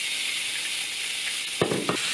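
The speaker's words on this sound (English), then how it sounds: "Yeah, so I'll put the bacon in." Bacon sizzles in hot olive oil with onion in a frying pan for coq au vin. A steady bright hiss runs throughout, and two quick clatters near the end sound close, with no voices.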